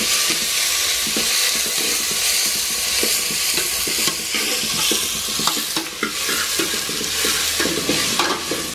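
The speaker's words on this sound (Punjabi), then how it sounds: "ਤੇਲ ਬਹੁਤ ਜ਼ਿਆਦਾ ਗਰਮ ਹੈ ਤੇ ਨਾਲ ਦੀ ਨਾਲੇ ਆਪਾਂ ਨੇ ਪਿਆਜ਼ ਪਾ ਦੇਣਾ" Onions sizzle and crackle in very hot oil with cumin, a dense steady fry with bursts of spattering and stirring scrapes close to the pan.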